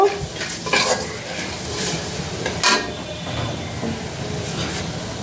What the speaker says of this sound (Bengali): দিয়ে দিলাম পাঁচফোড়ন আর শুকনো মরিচ